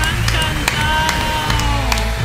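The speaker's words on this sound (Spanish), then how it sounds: "Mirad, la gente aplaudió." An audience at a closing show cheers and claps continuously through the clip, with occasional whoops and voices mixed into the crowd noise.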